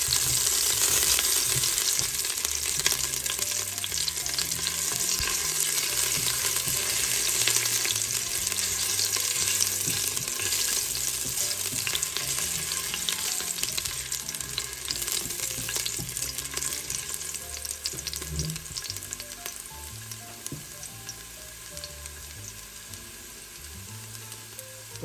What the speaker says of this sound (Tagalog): Lalagyan ho natin ng ginger. One small root na ginger lang po. Gigisa po natin.